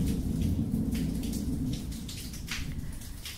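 Steady rain hisses with a deep low rumble of thunder underneath, a continuous, fairly loud wash that eases slightly partway through.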